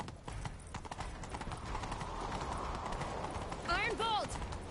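Horse hooves clip-clop at a steady gallop in The Witcher 3 video game, a continuous rhythmic pounding with a whinny near the end, loud over game music.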